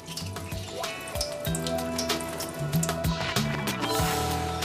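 Water poured over freshly repotted garden plants to settle the soil around their roots, a steady wet splashing and trickling with scattered drips, close by and continuous under background music.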